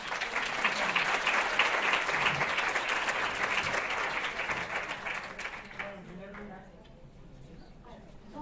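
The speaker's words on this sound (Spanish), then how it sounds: "un fuerte aplauso para Antonio." Audience applause at a tarot congress lecture, dense steady clapping filling the room for about six seconds before thinning out and fading to scattered claps.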